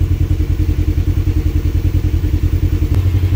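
Kawasaki KRX 1000 side-by-side engine running just above idle with its roof fan on, a steady close rumble with a pulsing low throb and a faint whirring layer throughout.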